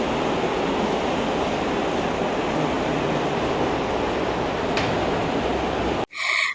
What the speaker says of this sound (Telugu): ఆ పైపుల్లో నుంచి వాటర్ అవి వెళ్తున్నాయి. ఆ సౌండ్ మనకు వినిపిస్తుంది.